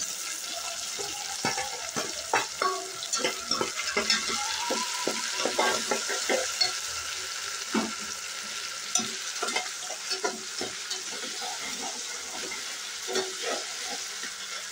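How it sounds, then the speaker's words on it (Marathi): Onion and tomato fry with ginger-garlic paste in a pan for masala rice, a steady close sizzle broken by frequent scraping stirs throughout. "कांदा टोमॅटो हे सर्व व्यवस्थित भाजून झाले।"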